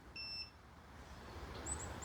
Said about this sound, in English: the fire driver's beeping, so it is working